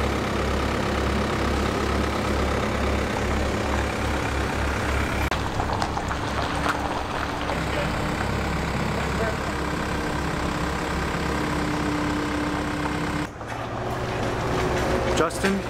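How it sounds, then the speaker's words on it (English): A skid steer engine running steadily while hay bales are loaded, a loud low diesel drone that holds throughout with a brief dip near the end, voices talking over it. "Justin is hitting it with the skid steer."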